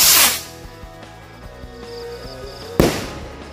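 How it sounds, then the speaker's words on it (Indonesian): A large rocket firework lights with a loud fizzing hiss, then a quieter stretch with music in the background, and a second sharp hissing burst follows, at night. "selanjutnya ini kita nyalakan mercon roket besar"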